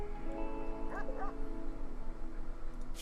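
Dog in the colony-building video game Rimworld giving a couple of short yips and barks, fairly close, over a steady ambient game soundscape.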